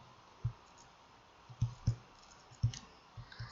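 Faint mouse clicks while placing the cursor in a Word document, about eight quiet, sharp taps scattered irregularly, some in quick pairs, over a low background hiss.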